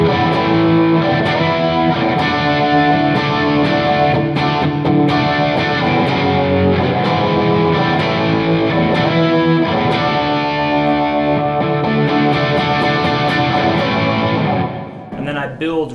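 Crunchy distorted electric guitar playing a pre-chorus section, thick sustained chords ringing steadily at full volume before cutting off at the end, with no talking.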